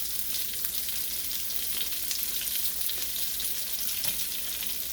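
Carrots hit a hot stir-fry pan for curry shrimp, giving a loud, steady hiss of frying and sizzling oil that holds constant throughout with no talking.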